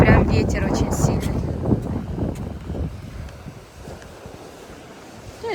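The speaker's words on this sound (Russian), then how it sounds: "И прям ветер очень сильный." Strong wind gusts buffet the microphone on an Odessa seashore with surf rumbling beneath, loud at first and easing later, while a voice is briefly heard.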